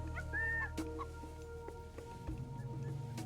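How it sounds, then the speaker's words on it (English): Chickens clucking inside the Age of Mythology strategy game, short game-sound clucks over a steady musical and ambient background, with no talking. "We've also got some chickens here."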